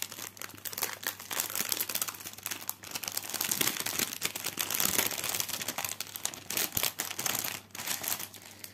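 Diamond painting kit packaging being unwrapped up close, with continuous crinkling and crackling of plastic film and paper and frequent sharp rustles, no talking.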